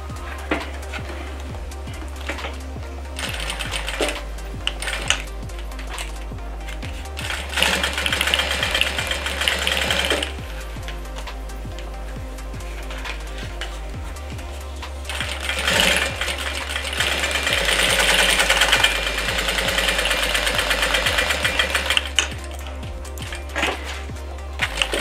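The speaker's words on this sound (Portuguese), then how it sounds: "Aí a gente encaixa o viés aqui dentro do plástico e passa uma costura para unir." A sewing machine stitches bias tape onto a plastic hygiene kit pouch, running in bursts of rapid mechanical chatter with a low motor hum, pausing and restarting several times.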